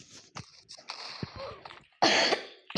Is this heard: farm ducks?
no